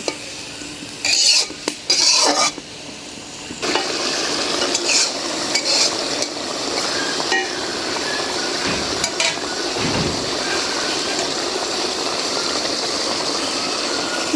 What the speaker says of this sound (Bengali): মশলায় মাছটা কষায় উঠায় রাখবো